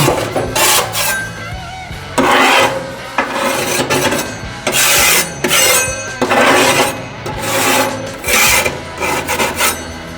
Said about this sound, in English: I also use a putty knife to clean in here as well.